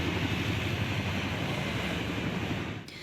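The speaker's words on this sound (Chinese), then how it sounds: "挂大型国旗的次努克运输直升机早起，搁再飞过总统府" A Chinook transport helicopter carrying a large national flag flies over the Presidential Office in Taipei during a National Day flypast rehearsal, a steady broad rumble that fades slightly near the end.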